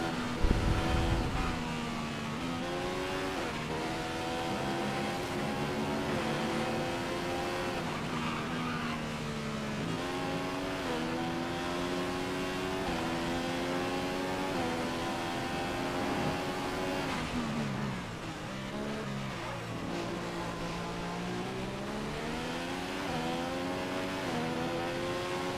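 Formula One racing car engine in the F1 video game, Daniil Kvyat career mode, heard as a loud, continuous high-revving whine that climbs and drops through gear shifts, with a brief dip near the end.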